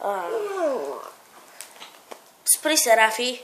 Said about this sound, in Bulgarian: Боже, това беше кучето ми.